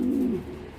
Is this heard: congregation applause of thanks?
no